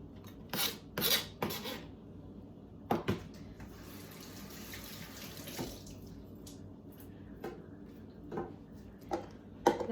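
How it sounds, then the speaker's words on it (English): Ingredients for Hmong hot sauce are mixed in a bowl: a few sharp clinks and scrapes of a utensil against the bowl, then quieter, sparse stirring sounds over a faint background hiss. "I'm just gonna mix that in my bowl"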